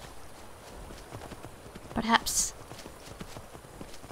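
Faint, regular hoof clip-clop from a horse in a video game plays under a voice speaking in character, with a brief louder chime partway through.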